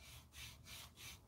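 A hand rubs back and forth over a smooth wood surface sanded with a DeWalt DCW210 cordless sander, giving three soft, even swishes close up and faint.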